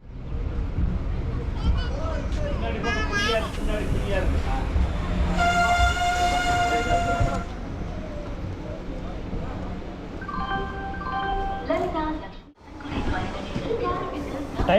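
A MEMU express train pulls into Podanur Junction, its steady loud rumble and rolling clatter carrying two long horn blasts, the second a shorter tooting chord, with people talking nearby.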